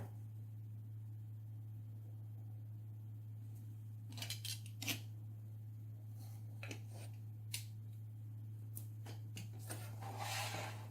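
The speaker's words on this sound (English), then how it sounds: "We're just going to trim off the excess." Scissors snip through excess paper while trimming a mini album page, a handful of crisp, separate cuts that start partway in and grow busier toward the end, heard close against a steady low hum.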